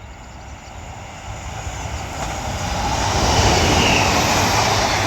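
A Northern Class 170 diesel unit from Manchester Airport passes through Kearsley station, its rumble building steadily from moderate to loud with a broad rushing roar of wheels and engine as it draws near.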